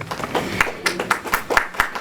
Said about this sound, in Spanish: Un aplauso fuerte para los magísteres en gerencia social y coautores de este libro.